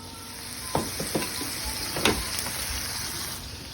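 Scallops fry in butter and oil with salt and dill in a pan, a steady close sizzle running throughout with a few sharper pops and spatters breaking through.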